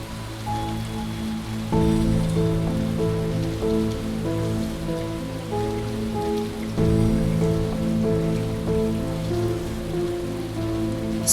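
Heavy torrential rain pours down in a cartoon scene as two characters take shelter by an old house. The downpour is a dense, steady hiss heard under background music throughout.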